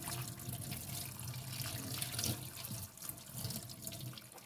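Tap water runs steadily while shampoo is rinsed out of a Blythe doll's hair, a continuous splashing stream into a sink at close range.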